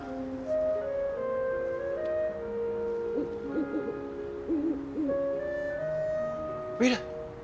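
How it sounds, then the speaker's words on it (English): Owl hooting in a television drama scene, a few soft hoots sounding among sustained background music. "An owl."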